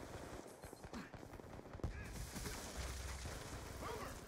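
Teammate gunfire striking an assault shield in a first-person shooter, a dense run of sharp rapid shots and impacts at close range that carries on through most of the stretch without letup.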